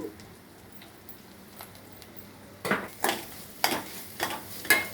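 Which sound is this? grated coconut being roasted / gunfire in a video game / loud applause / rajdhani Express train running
grated coconut being roasted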